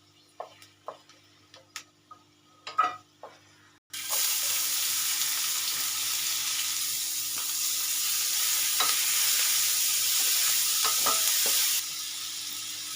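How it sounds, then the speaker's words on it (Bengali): Almonds lightly roasting in a pan, first a few sharp stirring clicks against the pan, then a steady soft sizzle that continues for about eight seconds with occasional spoon taps. "কাঠবাদামটা একটু হালকা রোস্ট করে নেব।"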